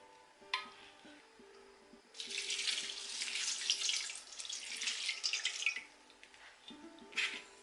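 Water runs from a tap in a few short bursts over dry poha flakes, a close splashing pour that starts and stops, with faint clinks between.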